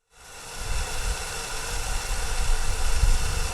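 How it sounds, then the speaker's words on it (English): Steady, loud rushing roar of water pouring into a 1-million-gallon storage tank, a continuous broadband wash with deep rumbling underneath, no voices. "The sound you're hearing right now is the water flowing into the 1 million gallon Puerto Rico tank."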